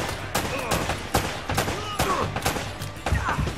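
Gunfire in Uncharted: Drake's Fortune on PS3, a rapid burst of repeated shots in a fortress firefight, loud and close, mixed with scattered game effects.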